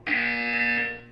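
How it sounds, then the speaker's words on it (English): A harsh electronic buzzer from the video game Portal 2 sounds once, loud and close, holding a steady, grating tone for about a second with no talking over it. "When you hear the buzzer, look up at the ceiling."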